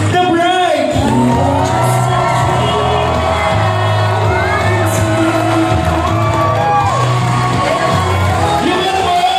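A wedding crowd cheers, whoops and shouts right after the bride and groom kiss, a loud and sustained wash of voices that stays dense throughout, with the clapping buried beneath the yelling.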